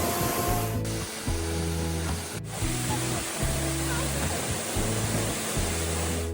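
A multi-tiered waterfall in Glacier National Park pours as a constant, loud rushing roar, with a low repeating rhythmic hum layered beneath it.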